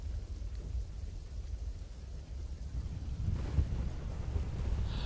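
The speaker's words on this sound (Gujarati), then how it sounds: "દ્વારકાની અંદર પવન નહીં પરંતુ વહેલી સવારથી ઝરમર વરસાદ પણ ચાલુ થઈ ગયો છે" Strong wind from Cyclone Biparjoy blasts across the microphone in Dwarka, a steady low roaring rush that swells slightly toward the end, with no voices.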